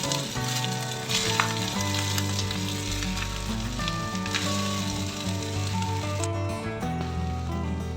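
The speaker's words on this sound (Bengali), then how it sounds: "এবার রাইসটা দিয়ে দেব এবং ধীরে ধীরে এটা মিশিয়ে দেবো" Rice is stirred into a pan of frying eggplant with Kashmiri chili for begun pulao, sizzling steadily and close up throughout, with soft scraping as it is mixed.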